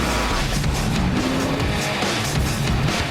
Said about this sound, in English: in Drive, a job goes wrong and awesome car chases ensue.